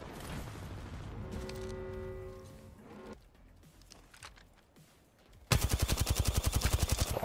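Automatic gunfire with heavy recoil in a competitive video game sounds as a loud, rapid burst of evenly spaced shots near the end, after a stretch of humming game ambience and other sounds.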